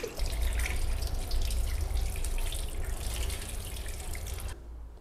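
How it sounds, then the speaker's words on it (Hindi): Fish is washed under cold water running from a tap, giving a steady, close rush of splashing water that cuts off sharply near the end and leaves a quiet room. "तो फिश को धो लेते हैं। अरे ठंडा पानी।"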